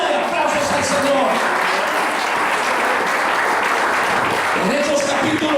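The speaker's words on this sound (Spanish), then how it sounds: "Ofrenda de aplausos al Señor." A church congregation claps loudly and steadily for several seconds, a dense, sustained wash of applause with a few voices mixed in.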